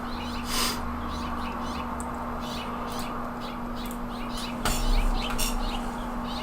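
Outdoor birdsong heard through an open window, with repeated chirps and calls over a constant low electrical hum, moderately distant and steady throughout.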